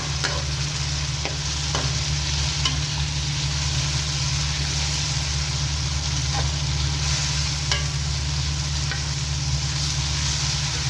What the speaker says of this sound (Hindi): अब हम इसमें टमाटर शामिल करेंगे। अच्छे से मिक्स कर लेंगे।